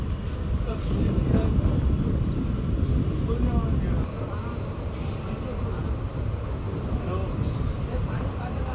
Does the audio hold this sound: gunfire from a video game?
no